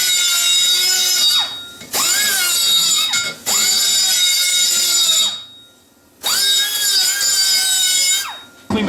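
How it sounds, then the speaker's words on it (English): A die grinder cleans up the inside of a tailpipe on a 2002 Jeep Cherokee 4.7L, whining loud and close in three long bursts with pitch dips as it bites the metal, separated by short pauses. "I think I'll dip over with the die grinder"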